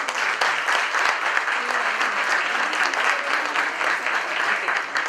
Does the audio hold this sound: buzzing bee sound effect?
no